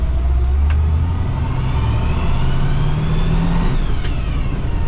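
A 1971 Ford Bronco with a 3-speed manual gearbox drives along with a loud, steady engine drone heard from the cabin. Its pitch climbs gradually as the truck gains speed, and two brief clicks sound over it, with no voices.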